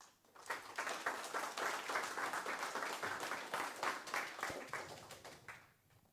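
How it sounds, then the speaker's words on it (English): Conference audience applause welcoming a speaker to give a talk on distributing mailing list messages, many hands clapping in a dense burst that swells quickly, holds for several seconds, then tapers off. "Give him a round of applause"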